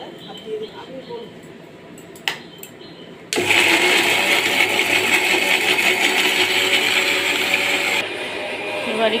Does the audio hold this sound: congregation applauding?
no